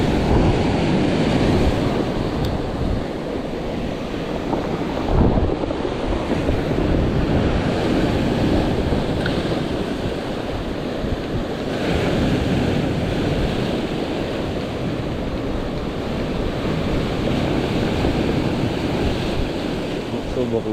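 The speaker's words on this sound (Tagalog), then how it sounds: "Alon mga master." Ocean surf breaking on a shore where people are out fishing, a continuous rushing wash with slow surges and gusty wind buffeting the microphone, loud and close, with no one speaking.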